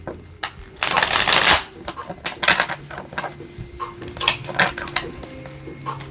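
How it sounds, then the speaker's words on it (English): Tarot cards are shuffled up close in riffling, papery bursts, one long flurry and then shorter rustles and taps, while a voice talks quietly over part of it. "let's pull the tarot and see if we can get some more information here"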